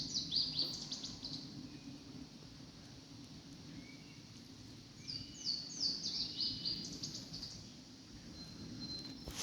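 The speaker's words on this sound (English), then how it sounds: "Every time that weird bird sound kicks off, they go on high alert." Odd bird calls ring out from a Catskill Mountains forest at sunset, a few high chirping phrases at moderate distance over a steady low rustling background, with a second cluster of calls partway through.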